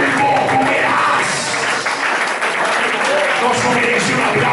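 A church congregation applauds loudly and steadily, with dense clapping and some voices mixed in throughout, at a Pentecostal service in Arboleda, Caldas.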